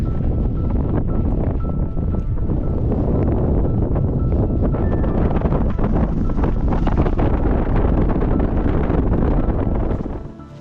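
Steady, loud wind buffeting a microphone outdoors at Big Bend National Park, a continuous roaring rush that holds for about ten seconds before easing off at the end, with no voices.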